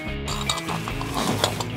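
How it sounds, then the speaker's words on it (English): A ratchet wrench works on the oil filter of a Porsche Boxster during an oil change, giving a quick run of close, metallic clicks and ratcheting ticks with no talking. "Here comes the wrench."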